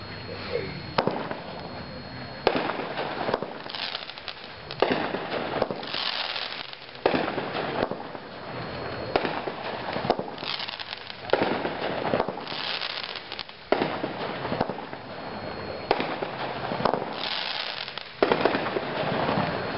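A Mexican Wave 10-shot consumer firework from a product demo, firing a loud, regular string of bursting shots with crackling tails at roughly two-second intervals, heard outdoors without talk.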